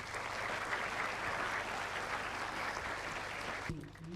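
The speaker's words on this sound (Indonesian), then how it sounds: "tepuk tangan untuk penyanyi yang cantik ini" An audience applauds a singer at a gathering with a thousand orphans, a soft, even spread of clapping from many hands heard from a distance for a few seconds, cut off by a brief voice at the end.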